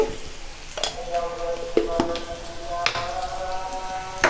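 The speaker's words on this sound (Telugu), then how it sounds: "ఇప్పుడు ఈ ఆనియన్స్ పచ్చిమిర్చి పసుపు అన్నీ కొంచెం దోరగా వేగాలండి" Onions, green chillies and turmeric fry in a pan with a soft, close sizzle, punctuated by several sharp clinks and scrapes of a spoon stirring against the metal.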